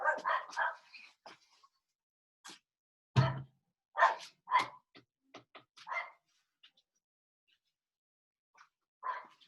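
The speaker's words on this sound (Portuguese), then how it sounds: "Se vocês ouvirem um cachorro latindo aí no fundo, é aqui de casa" A dog barks in short bursts at home, scattered yips and barks standing alone in a quiet room, loud and close.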